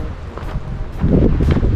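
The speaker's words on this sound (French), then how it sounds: "Là, il y a un peu de vent." Wind blows outdoors on a hike from Lac Peïroou to Les Baux-de-Provence, buffeting the microphone with a low rumble that gusts stronger in the second half, with no talk.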